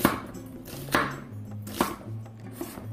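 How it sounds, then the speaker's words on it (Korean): A knife chops through onion into strips on a cutting board, with several distinct close knocks spaced roughly a second apart over soft background hum. "양파를 채 썰어 주세요."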